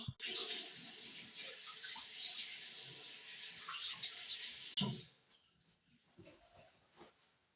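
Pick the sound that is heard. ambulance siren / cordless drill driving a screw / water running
water running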